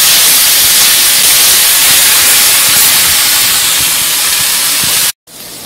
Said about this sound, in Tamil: இத ரொம்ப நேரம் வதக்கணும்னு அவசியம் இல்ல. லைட்டா வதங்கினாலே போதுமானது.